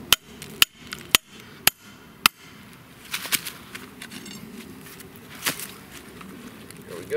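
Five sharp, evenly spaced hammer blows ring out as a trap stake is driven into the ground in woods, followed by scattered softer knocks and rustling outdoors.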